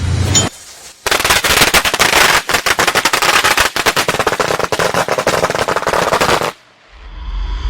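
A long, loud, rapid string of firecrackers crackling and popping nonstop for several seconds, then cutting off.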